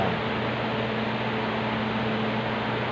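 A homemade washing machine built from an electric fan motor runs with a steady, loud, even hum and rushing whir, constant throughout with no talk.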